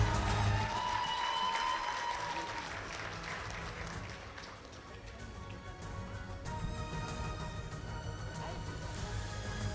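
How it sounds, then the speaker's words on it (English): A sustained round of audience applause at an awards ceremony for a job fair launch, steady dense clapping with a voice briefly audible over it at the start. "Big round of applause, ladies and gentlemen."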